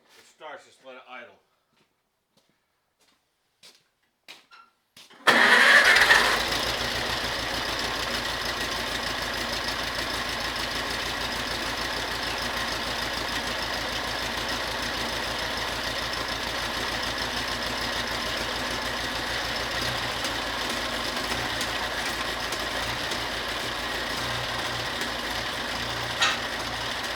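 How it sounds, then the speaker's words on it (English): A small Farmall Cub tractor engine catches after a few quiet clicks and settles into a steady, loud idle that runs on without break, with only faint clanks under it. "It starts, just let it idle."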